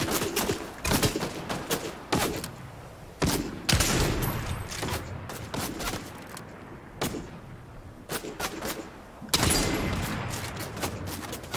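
Video game gunfire crackles in rapid bursts and single sharp shots, a dense, uneven fusillade that stays loud and close throughout, pausing briefly between volleys, with no voices over it.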